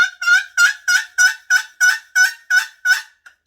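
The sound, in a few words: turkey hen yelps made with a box call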